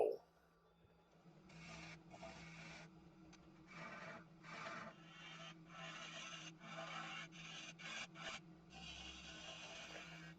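A bowl gouge makes push cuts into green beech on a wood lathe, giving a series of dry rasping, scraping bursts over a steady low motor hum, moderately close and fairly quiet.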